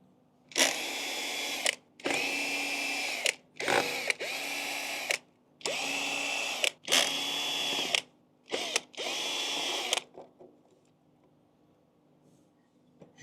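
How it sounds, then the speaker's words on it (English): A power drill backs out six cover screws from a Rattan Sequoia, whirring in roughly seven short bursts with gaps between, near and moderately loud, then silence. "The first thing that we're going to want to do is to pull off these 6 screws so that we can take off"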